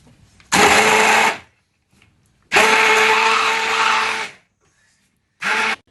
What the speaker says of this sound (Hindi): उसके बाद इसको हैंड ब्लेंडर से अच्छी तरह से हम पेस्ट बना लेंगे।